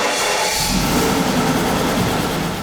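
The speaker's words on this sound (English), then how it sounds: "It's a 6-cylinder BMW, definitely." A six-cylinder BMW engine cold-starts with a loud, close burst that settles into a steady, raspy high idle roar.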